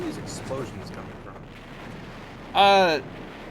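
An explosion in the Tomb Raider video game: a short, loud burst with a ringing, sweeping tone rises near the end over low, steady game background noise.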